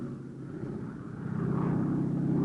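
Twin-engine C-47 Skytrain tow planes roar on the ground while taxiing at full throttle, a steady low propeller drone that grows louder and closer toward the end, with no voices.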